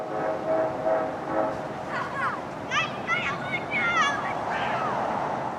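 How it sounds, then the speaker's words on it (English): A distant train horn sounds as a faint, sustained tone over low rumbling background noise, with a person talking partway through. "finally, we hear the horn."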